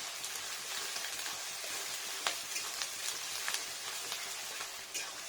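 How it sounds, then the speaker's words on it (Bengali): Chopped onions sizzle and crackle steadily in a hot, large aluminium wok, with occasional sharper pops and stirring scrapes, no voices. "পেঁয়াজ কুচানোটা দিয়ে নিলাম এটা নাড়া দিই"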